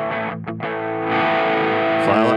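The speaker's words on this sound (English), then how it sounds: "you have all sorts of different types of distortion in here" Distorted electric guitar through a NUX Mighty Plug Pro modelling amp, a short sustained chord with a brief dip, loud and close with no talk.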